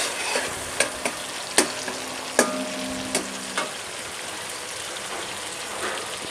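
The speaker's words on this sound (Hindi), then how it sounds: "अब मैं इसमें टमाटर ऐड कर रही हूँ और टमाटर को नरम होने तक इसे पकाएंगे" Tomatoes fry in hot oil for a beef karahi gosht, a steady crackling sizzle punctuated by several sharp spoon taps against the pan in the first few seconds.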